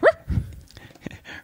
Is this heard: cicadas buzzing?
no